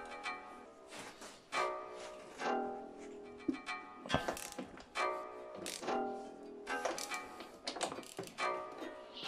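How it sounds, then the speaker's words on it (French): Tools clicking and ratcheting while screws are removed to take apart an Öhlins motorcycle shock absorber, giving a series of close metallic clicks and rattles in uneven bursts with no talking. "Je vais démonter l'amortisseur et on va vérifier ça ensemble."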